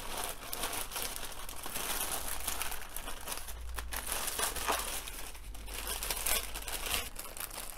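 Plastic bag crinkling steadily while tatsoi microgreens are packed into it, a dense close rustle that runs throughout over a low background hum.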